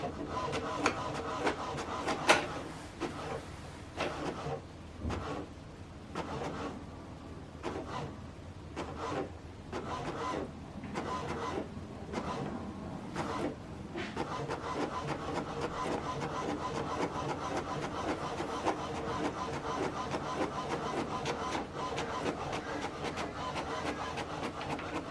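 An HP DeskJet 3775e printer runs a print job, its steady mechanical whir and rubbing feed noise continuing at moderate level close by, broken early on by a few short clicks and shuffles of paper handling.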